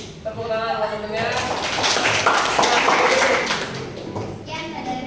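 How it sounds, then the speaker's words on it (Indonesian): A school class applauds a classmate in scattered, overlapping claps, with children's voices chattering alongside the applause throughout. "Tepuk tangan buat temennya."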